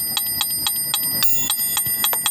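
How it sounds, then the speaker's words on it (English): Bright, high-pitched metallic dings from a metronome app repeat at a steady, even tempo, each a short sharp bell tone ringing out clearly with nothing else heard. "குத்தினா மணி sound வரும்"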